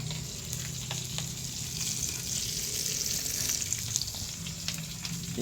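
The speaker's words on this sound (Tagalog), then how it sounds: "Magluluto kami ng ano, tuyo." Dried fish (tuyo) frying in a pan, a loud, continuous crackling sizzle that holds steady from start to finish with no talk over it.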